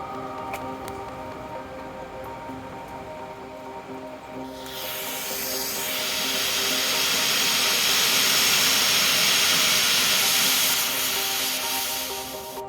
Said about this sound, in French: Aujourd'hui, on va faire un premier test de mon Propergol de fusée avec 5 grammes de Propergol.